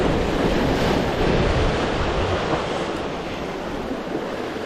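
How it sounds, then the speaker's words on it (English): Ocean surf and swell at low tide with the tide running fast, a dense, constant wash of water roaring close by, mixed with wind buffeting the microphone. "Tide is ripping. You got a little bit of swell moving through now."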